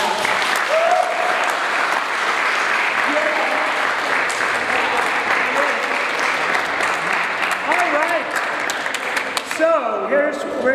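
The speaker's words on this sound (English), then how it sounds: "They deserve a round of applause just for that." A high school spring concert audience gives a sustained, loud round of applause with dense clapping throughout, tapering slightly near the end as some voices emerge.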